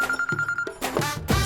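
A cartoon telephone rings with a rapid electronic trill, repeated in short bursts over about a second and a half, close and clear.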